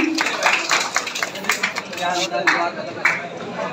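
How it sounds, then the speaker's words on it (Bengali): An audience at a Pohela Boishakh discussion and cultural program at a government college claps to welcome a guest, scattered sharp hand claps over room noise and voices. "আমরা একটু করতালি দিয়ে স্বাগত জানাই।"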